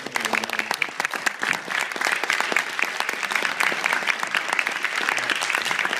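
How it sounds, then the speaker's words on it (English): Audience at a college Earth Week talk applauds steadily for a gardening speaker, a dense, even patter of many hands clapping that holds for several seconds. "Let's give a round of applause to Ron."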